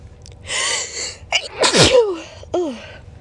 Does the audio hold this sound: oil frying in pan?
no